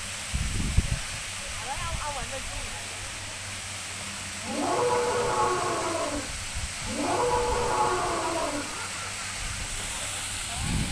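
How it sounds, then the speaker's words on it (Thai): An elephant at a Thai zoo attraction gives two long, loud trumpeting calls in succession, each lasting about a second and a half, with brief chatter and crowd noise around them. "อ้าวช้างส่งเสียงแล้วนะครับ"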